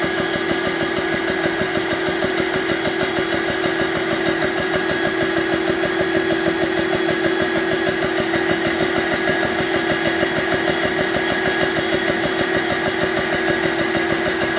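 A BSA PCP air compressor runs continuously, giving a loud, steady mechanical drone with a fast rapid pulsing beat and a constant whine, with no talk over it.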